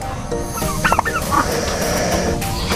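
A broody turkey hen gobbles in a short warbling burst amid poultry farm background noise, fairly close and moderately loud.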